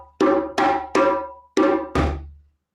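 Hand drum played in a sabar/djembe-style break: five sharp strokes in a quick rhythm, mixing ringing slaps with a deeper, booming final bass tone, close and loud with no talking.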